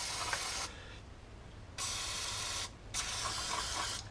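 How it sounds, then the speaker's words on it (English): Carburetor cleaner aerosol sprayed onto car parts of a 1991 Toyota Celica GT, heard as three loud, close hissing bursts separated by short pauses. "carburetor cleaner gets everything a bit cleaner, more suited to throttle bodies"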